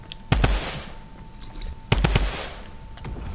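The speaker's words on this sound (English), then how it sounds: "Soon as you pick up a gun from that chest, I'm shooting." Two close bursts of video game gunfire, each a quick cluster of sharp loud shots, separated by a short pause with no talking.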